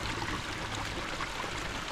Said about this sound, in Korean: 물소리만 들어도 시원한 기분이 듭니다.